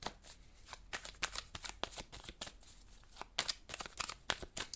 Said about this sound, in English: I like to shuffle right in front of you because I want you to see everything